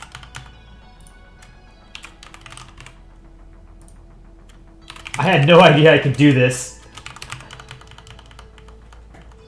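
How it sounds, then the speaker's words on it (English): A burst of rapid, close computer-keyboard typing lasts about a second and a half in the middle, with a person speaking before it and a steady background hum throughout. "Keyboard ASMR."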